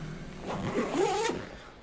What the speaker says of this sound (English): zip that thing up